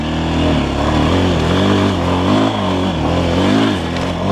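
A Forte CBA 250 Chinese enduro motorcycle revs and pulls off-road, its engine note rising and falling in repeated throttle surges, loud and close throughout with no speech.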